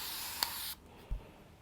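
A spray mist bottle sprays fabric in one short hissing burst that cuts off abruptly, followed by a soft low thump, quiet and close.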